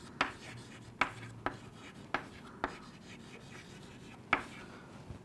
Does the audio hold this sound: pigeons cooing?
no